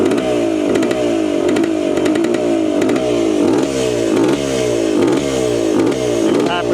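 A Wankel rotary-engine motorcycle idles with the choke on, its loud, rough, throbbing exhaust pulsing steadily and close, with faint mechanical clatter running throughout.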